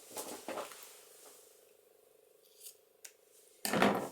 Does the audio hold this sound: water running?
no